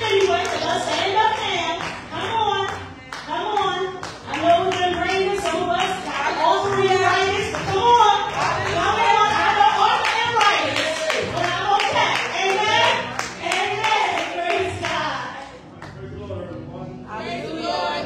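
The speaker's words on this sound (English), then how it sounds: "let's just clap." Church congregation clapping along during a New Year service, a busy stream of hand claps blended with singing, music and voices for the whole stretch.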